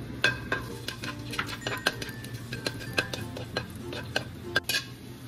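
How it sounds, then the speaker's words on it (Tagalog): Half the garlic frying in oil in a pan for beef adobo topping, a soft steady sizzle under repeated spoon scrapes and light clinks against the pan, close and quiet. "Prituhin muna natin yung kalahati nitong ating bawang kasi pang toppings natin sa taas ng ating adobo mamaya"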